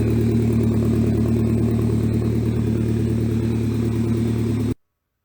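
A scratch-built car's engine runs steadily with a continuous low, rough mechanical drone, loud and close throughout, holding an even note before cutting off abruptly near the end.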